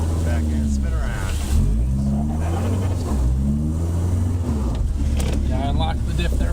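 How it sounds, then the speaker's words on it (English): An off-road Subaru Forester slides sideways with its differential unlocked on a mountain trail, the engine revving and surging in loud waves while a driver talks over the noise. "I unlocked the diff there for a second. I figured if anything, I'd let the back end slide."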